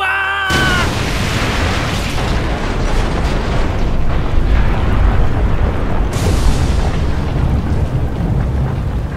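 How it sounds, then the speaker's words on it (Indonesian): A loud, sustained roaring blast of a grenade setting off an ammunition depot, with rumbling debris that continues heavily for several seconds, with a renewed surge partway through. "Dan meledaklah granat itu"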